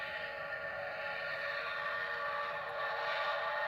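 Miniature park train at a zoo running around its track, a steady rolling rumble with a continuous mechanical drone, heard from on board at an even level.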